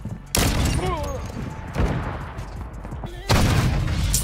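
Sniper rifle shots in a Call of Duty Search and Destroy match, three loud, sharp, booming reports spaced about a second and a half apart, each with a short decaying tail, with faint game sounds in between.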